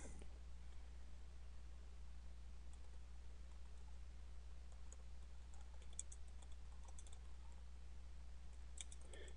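Keyboard typing while entering an eBay item description, faint close clicks in uneven bursts over a low steady hum, with a few louder keystrokes near the end.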